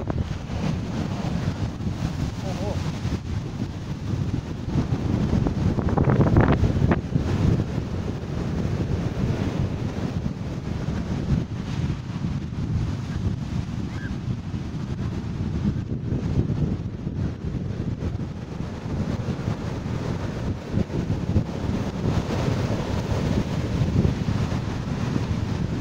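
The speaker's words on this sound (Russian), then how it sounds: "Не знаю, слышно или нет, но море рокочет." Stormy sea surf and strong wind on a beach at Nha Trang, a steady loud roar with wind buffeting the microphone throughout, no voices.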